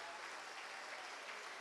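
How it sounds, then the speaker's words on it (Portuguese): Many worshippers in a church service clap together in a thick, continuous burst of applause, loud and sustained from start to finish with no voices on top. "vamos dar a melhor salva de palmas para esta palavra"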